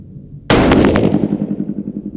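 A 6.5 PRC rifle fires a single loud shot with factory ammunition outdoors. The sharp crack is followed by a long rolling echo that fades out over the next couple of seconds.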